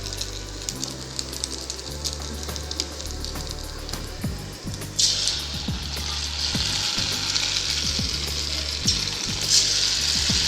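Noodle pakoda pieces deep-frying in hot oil, a bright crackling sizzle that swells louder partway through as more batter goes in, with repeated low knocks and clinks of a utensil against the pan.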